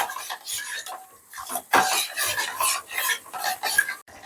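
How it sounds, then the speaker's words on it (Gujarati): A spoon scrapes and stirs a thick Oreo biscuit cake mixture as it cooks in a pot over a gas flame, giving a close, continuous rasping and scraping that rises and falls in uneven strokes. "આપણે હવે તેને આ રીતે સતત હલાવતું રહેવાનું છે"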